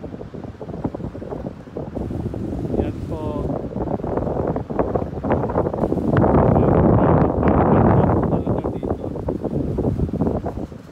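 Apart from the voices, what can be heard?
strong wind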